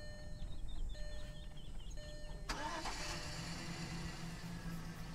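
A car engine turns over and starts in a video game, with a sharp crank followed by a steady idling rumble under a background of faint tonal game sounds.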